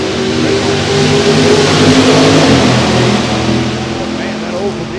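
A 1985 Oldsmobile Cutlass roars down a drag strip at a hot rod reunion meet, a loud sustained engine howl that swells and then slowly recedes, with the crowd and an announcer's voice blended underneath.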